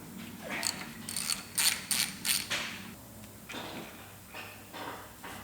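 A ratchet undoing the last bolt on a Ford Mondeo Mk5 2-litre diesel engine, giving a quick series of close metallic clicking strokes followed by softer ratcheting.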